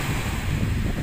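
Strong surf breaking on a white-sand island beach at Buyayaw, San Roque, Bulalakaw, Oriental Mindoro, a steady close wash of waves mixed with heavy wind rumble on the microphone, with no voices.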